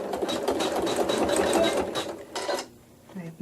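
Sewing machine stitching an embroidery motif, a fast steady rapid mechanical rattle close up that runs alone for a few seconds and then stops.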